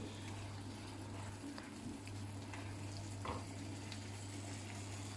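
Sauce for oriental minced-meat and Comté bricks reducing in a pan, a steady close fizzing sizzle with faint bubbling pops running throughout over a low constant hum.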